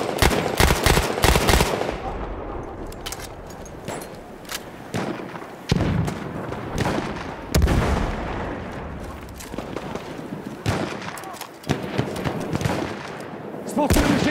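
Machine-gun and rifle fire rattles through a Battlefield V multiplayer battle, with repeated loud bursts and impacts amid chaotic wartime din while voices shout over the fighting.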